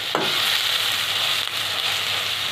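Red and green capsicum fry in a pan for restaurant-style macaroni. The sizzle is loud and steady throughout, with one brief scrape near the start and no talking.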